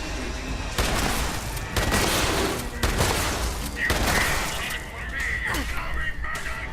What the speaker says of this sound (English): I did say it was going to explode, didn't I?